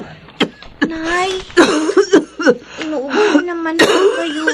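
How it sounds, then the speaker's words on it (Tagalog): An elderly woman coughs repeatedly in rough, uneven bursts mixed with throaty wheezing, strained voiced sounds and breathy catches, close and fairly loud throughout. "inuubo naman po kayo."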